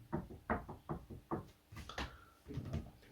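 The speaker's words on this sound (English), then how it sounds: "you were just knocking on there, but sound like that double door in the corridor" Knocking on a door in a historic castle, a run of sharp raps in uneven clusters, some doubled, close and fairly loud, then a brief creak and softer thumps near the end.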